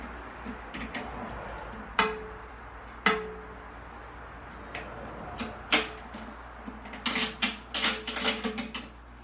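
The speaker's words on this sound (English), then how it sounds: "Now we're going to take the tools, tighten them up. These are 3/4 inch nuts and bolts." Hand tools tighten 3/4 inch nuts and bolts with scattered metallic clicks and ratcheting ticks, close and fairly quiet. A quicker burst of clicks comes near the end.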